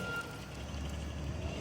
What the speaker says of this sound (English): that's the dump truck from our neighborhood